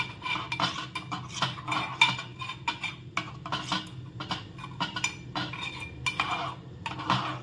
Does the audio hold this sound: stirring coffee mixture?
yes